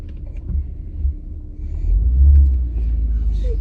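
A car engine rumbles at idle, then swells into a low, steady drone as the driver eases off the brake and gives a little gas; no talk.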